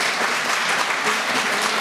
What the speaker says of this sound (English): So clap if you agree that